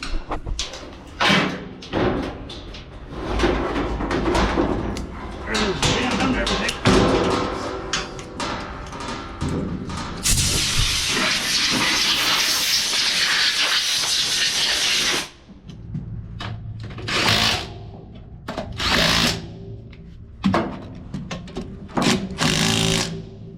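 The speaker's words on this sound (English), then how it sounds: "You got the air compressor hose on your side." Compressed air from an air compressor hose blasts in a loud steady hiss for about five seconds amid clattering, knocking work noise, with shorter hiss bursts before and after, no talk.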